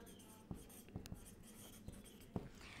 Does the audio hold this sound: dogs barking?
no